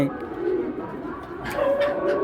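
Silver female pigeon cooing close by, a few soft throaty coos over a low background murmur.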